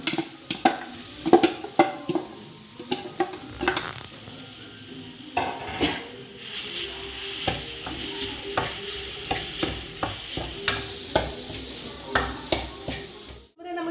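A spoon stirs mashed potato into a sizzling frying pan, giving repeated close scraping strokes and clinks over a low steady fry.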